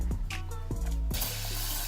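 A handheld spray bottle mists water onto natural curly hair, a soft breathy hiss rising after a moment of quieter sounds and lasting about a second.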